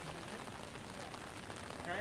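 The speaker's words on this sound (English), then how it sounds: "We got full on rain." Steady rain falls at EPCOT in Walt Disney World, a dense, even hiss of drops on surfaces heard faintly, with voices murmuring underneath.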